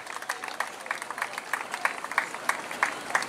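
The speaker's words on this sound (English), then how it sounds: "Give him a big cheer as well." Spectators clap at a 10k road race in Bideford, a thin scattered applause with distinct rhythmic claps, fairly quiet and somewhat distant.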